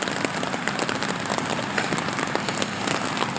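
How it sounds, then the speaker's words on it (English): Steady rain falls while someone jogs outdoors, a dense, close patter of drops hitting surfaces throughout with a faint rhythmic thud of steps and no talking. "Jogging in the rain."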